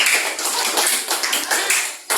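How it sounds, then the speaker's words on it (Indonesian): Students clap for a classmate in a classroom, a brisk, close burst of many hands that runs for a couple of seconds before cutting off. "Silakan kasih tepuk tangan buat temannya."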